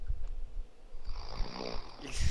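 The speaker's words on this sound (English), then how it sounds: "to me that's snoring" Snoring close to the microphone, a few rough breathy rasps rising and falling in a slow uneven rhythm, fairly faint with a louder snort at the end.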